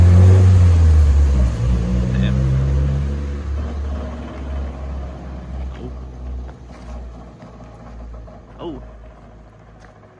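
Nissan S14 drift car engine revving, then settling into a low, rough idle with a possible exhaust fault, loud and close, with brief exclamations spoken over it.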